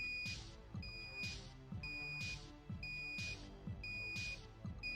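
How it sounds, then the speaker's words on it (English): A clock alarm set for three o'clock goes off in a regular repeating pattern, each cycle a bright electronic beep tone followed by a lower chime, cycling about once per second at moderate, steady loudness with no talking. "The alarm's going off."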